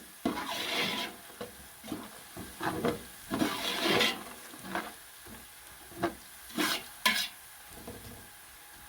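Garlic and ginger paste frying in a pot for chickpea pulao, stirred in irregular scraping bursts over a steady low sizzle, close and moderately loud, with no talking.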